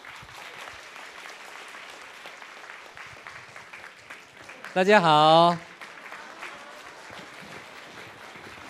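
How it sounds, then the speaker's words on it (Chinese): An audience at a medical service awards ceremony applauds with a steady, moderately loud clatter, while someone speaks briefly into a microphone and a short tonal sound rises in the middle. "大家用热烈掌声来欢迎。"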